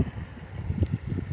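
Water flowing outdoors in a rural farming area, a low steady rushing murmur with soft irregular surges, heard alone without speech.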